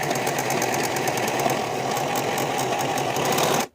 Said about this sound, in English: I'm going to finish the top straight edge using my serger